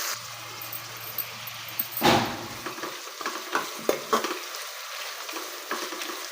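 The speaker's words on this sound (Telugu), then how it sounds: "గోల్డెన్ బ్రౌన్ కలర్లోకి వచ్చేలాగా వేయించుకోవాలి." Onions fry in a pan toward golden brown with a continuous close hiss of sizzling oil, broken by scattered clicks and spatula taps.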